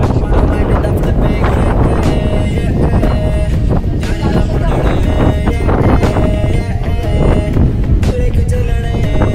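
Strong wind buffets the microphone at a cold hilltop viewpoint in the Wayanad countryside, a loud continuous roar with gusty surges throughout. Someone talks under the wind.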